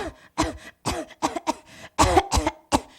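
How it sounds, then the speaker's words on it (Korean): A close series of about nine sharp, harsh coughs in quick irregular bursts, separated by brief pauses. "목에 걸린 기침이라는 뜻이에요"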